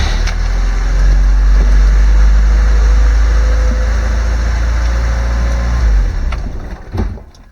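A Lada car engine runs loud and close with a deep, steady idle rumble, then cuts off and fades after a few seconds, leaving a short knock.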